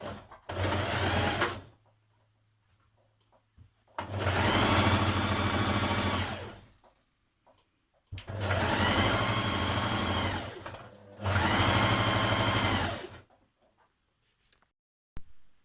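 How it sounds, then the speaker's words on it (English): A sewing machine stitches a maxi dress seam with a back tack, running in four loud, close bursts of roughly two to three seconds each, separated by short quiet pauses. "this is where we're going to start our sewing. Going to back tack."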